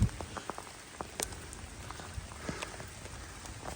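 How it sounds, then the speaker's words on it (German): Water running and trickling over a grassy green hillside with clover, a close, steady patter of scattered drips and splashes without talking. "Das Wasser läuft, überall läuft."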